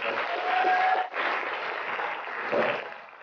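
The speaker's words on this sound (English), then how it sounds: "Let's give them a round of applause." An audience at a school year-end promotion ceremony gives students a round of applause, a steady patter of clapping hands that swells, briefly dips, then surges again before fading.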